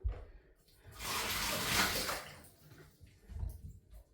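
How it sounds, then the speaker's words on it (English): Water splashes and rushes over a 2011 Nike Air Max Torch running shoe in a tub, swelling for about a second of rinsing, then dropping to softer trickles and a thump. "let's rinse this one."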